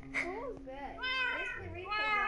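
Cats in Minecraft meow repeatedly in rising and falling cries, close and clear, while a person talks over them.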